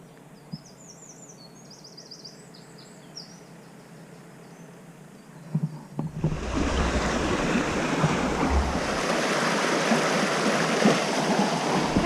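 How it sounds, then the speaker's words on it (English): Water rushing over a canal weir, heard from a narrowboat on a river journey: quiet at first with some chirping, then a loud, steady broadband roar of falling water swells in and holds close. "this is our first weir of the day"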